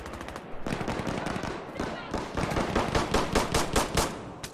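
Rapid automatic gunfire from a firefight in the video game Insurgency Sandstorm, loud and dense bursts of close shots rattling throughout, with a voice speaking briefly among the shots.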